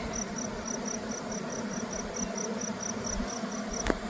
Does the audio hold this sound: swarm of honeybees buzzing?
yes